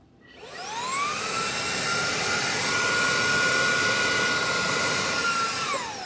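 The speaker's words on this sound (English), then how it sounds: "Next one is putting your hair up with a vacuum cleaner." A household vacuum cleaner used to pull up hair, its motor spinning up with a rising whine, then holding a loud, steady roar before beginning to wind down at the end.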